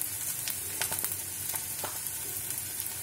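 Chopped vegetables fry in a pan for a soya chilli, giving a close, steady sizzle with scattered sharp crackles and a few brief spatters throughout.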